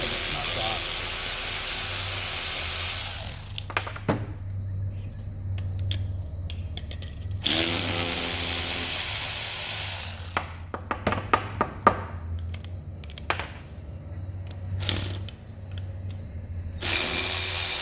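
Wrench loosening 5/16 bolt nuts on a Cessna 177 RG wheel, with brief ratcheting clicks and metallic ticks over a steady low hum, close by and fairly quiet.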